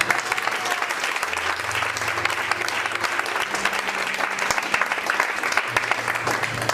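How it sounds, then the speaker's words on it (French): A church congregation breaks into sustained applause and acclamation during a French-language service, a dense steady roar of clapping with cheers and voices mixed in, loud and continuous throughout, with a low held musical tone underneath. "Est-ce que quelqu'un peut donner une acclamation à Jésus?"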